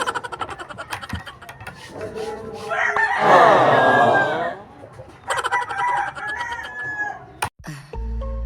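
A rooster crows loudly and long in the middle, surrounded by busy clucking and scratchy background noise, with a sharp click near the end.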